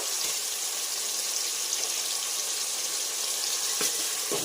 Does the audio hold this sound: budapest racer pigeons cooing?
no